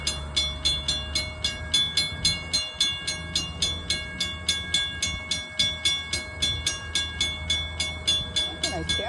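A Thomas-themed train approaches with a steady rhythmic clickety-clack of wheels, fairly near and loud, sounding its horn or whistle, while people talk over it.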